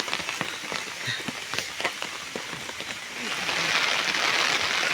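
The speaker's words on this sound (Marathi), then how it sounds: "अरे हे मुसळधार पाऊस आहे, वाहून जाल" Heavy monsoon rain pours down in Ratnagiri, a dense, steady hiss with pattering drops that grows fuller and louder toward the end.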